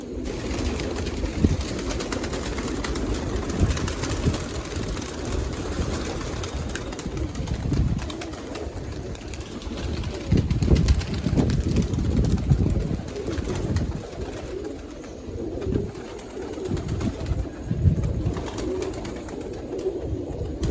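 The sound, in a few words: pigeons cooing (Dobaj pigeon)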